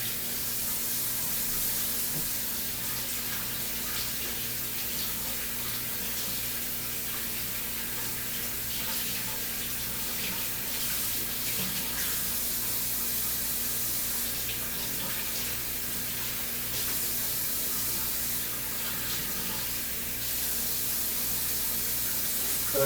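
Tap water runs steadily into a sink over a turkey, a continuous hissing splash that stays even in volume, with occasional small shifts as the turkey moves under the stream.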